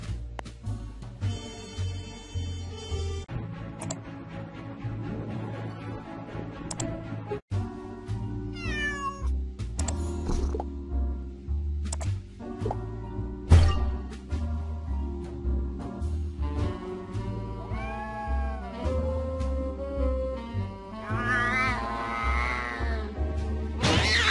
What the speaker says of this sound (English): have to go upstairs if I want to catch that cat.